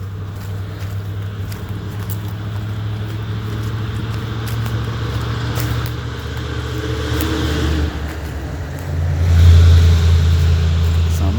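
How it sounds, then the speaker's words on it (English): A car driving fast across a rural forest trail area, a steady loud engine roar that swells louder near the end as it revs, heard from a distance without talk. "Somebody's driving like a maniac across the North Country Trail."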